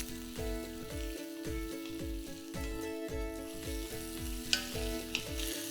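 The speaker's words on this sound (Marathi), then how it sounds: "फोडणी घातली आता याला चांगलं परतून घ्यायचं" Ivy gourd is stir-fried in a pan of oil tempered with mustard seeds, asafoetida and turmeric. A continuous close sizzle is broken by repeated rhythmic scrapes of stirring, with background music running throughout.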